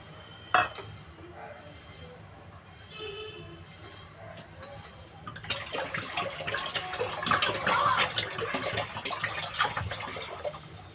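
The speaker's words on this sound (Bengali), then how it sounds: "আমি আরো জল দেবো" Water poured into a pot of chana dal lentils for Bengali khichuri, a loud splashing and clinking rush that begins midway and continues steadily, with faint kitchen clatter before it.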